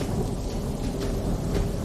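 Heavy rain pours steadily and loudly, with a low thunder rumble rolling beneath the constant hiss of the downpour.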